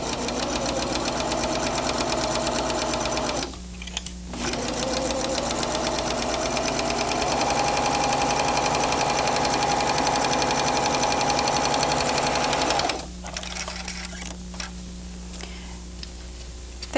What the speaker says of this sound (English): Stitch around the curved area edge.